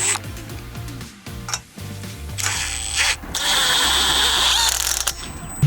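A drill whines up and strains in a few short bursts, then runs longer as it tightens a bolt on a backyard grape trellis, close up with some clanking handling noise.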